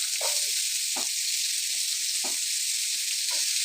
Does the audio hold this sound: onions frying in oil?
yes